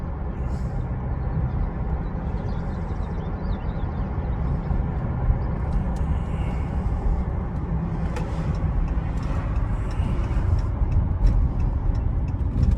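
A 2018 Chrysler 300S on a smooth, easy drive gives a steady engine and road rumble with tyre noise, holding an even loudness throughout and joined by a few faint ticks and clicks, with no one speaking.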